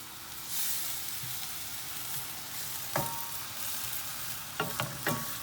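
Pasta sauce simmers and sizzles in a pan with a constant soft frying hiss, broken by a few sharp clinks of a utensil against the pan, heard close without talk.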